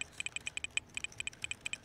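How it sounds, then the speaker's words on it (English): Rapid, steady clicking of computer keyboard keys being typed on, a quick run of crisp taps at close range with no talking. "I'm still typing."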